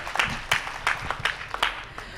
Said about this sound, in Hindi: आप तालियों से उनका स्वागत करें